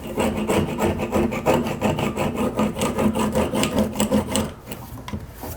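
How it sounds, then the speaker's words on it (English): A tool scrapes old silicone caulk out of a tiled tub and shower surround in steady, rapid rasping strokes. The sound is loud and close, with no voices. "Let's get all this old caulking out of here."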